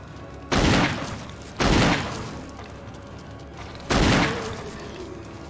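Three loud, abrupt gunfire bursts in a video game, each a sharp blast decaying over roughly half a second, spaced irregularly and heard alone without talk.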